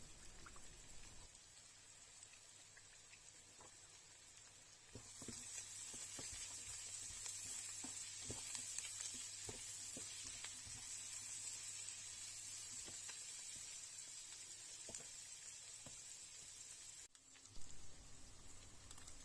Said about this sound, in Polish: Wrzucam do tego pokrojone jabłuszko i będę smażyć około 7 minut.